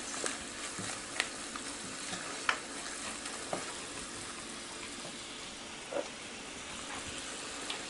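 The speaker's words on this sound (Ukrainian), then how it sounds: "пересмажуємо муку." A steady soft sizzle of flour frying in a pan for a roux, with a few faint clicks and scrapes of stirring scattered through.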